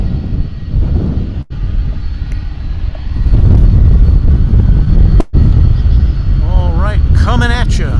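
Airplane at DFW Airport runway, a loud continuous jet roar rumbling low and steady throughout, with brief dropouts and a rising whine near the end; a voice speaks over it.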